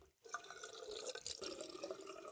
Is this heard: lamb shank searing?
no